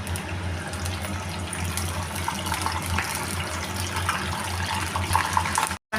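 A kitchen tap runs steadily while curry leaves are rinsed for garlic gravy, a close, continuous gush of water that cuts out briefly just before the end.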